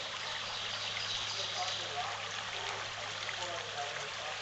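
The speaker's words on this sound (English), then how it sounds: "Just to hear the sound of that running water" A small mountain stream running beneath a bridge, a steady broadband rush and trickle of water that holds an even level throughout, with no distinct events breaking the flow.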